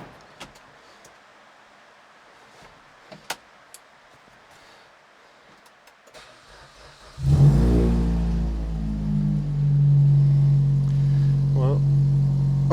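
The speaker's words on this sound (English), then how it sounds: "we'll start it up and give it a test with the engine running" A Suzuki Swift engine cranks and starts about seven seconds in, then settles into a loud, steady idle with a slight rise in revs near the end, after quiet rustling and a few clicks.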